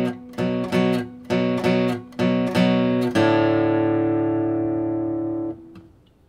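An acoustic guitar picks a bluesy two-string rhythm in short, evenly spaced strokes, ending on a long ringing chord that slowly fades.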